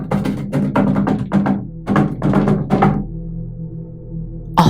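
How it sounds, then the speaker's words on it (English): Heavy banging knocks on a door as a horror-story sound effect, a rapid series of loud thumps in uneven clusters for about three seconds, then a low lingering hum. "I heard a messed up banging on the door"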